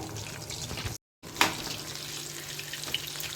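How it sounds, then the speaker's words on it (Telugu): Chicken pieces for KFC-style fried chicken frying in oil, a steady close hiss and crackle with one brief dropout and a sharp pop partway through. "ఈ విధంగా ఇంకొక వైపు కూడా బ్రౌన్ కలర్ వచ్చేటట్టు వేయించుకోవాలి"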